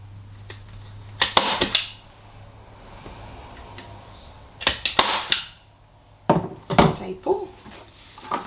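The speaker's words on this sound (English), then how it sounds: "And the trusty staple gun." A handheld staple gun fires in short bursts of sharp snapping clacks during a crafting session, three clusters spaced a few seconds apart, close and loud over a quiet background.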